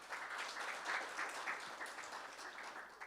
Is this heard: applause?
yes